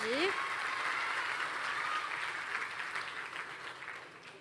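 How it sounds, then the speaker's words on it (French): Students at a white coat ceremony applaud faculty and staff, a broad wash of clapping that holds steady and slowly fades, with a brief vocal whoop at the very start. "Merci de les applaudir."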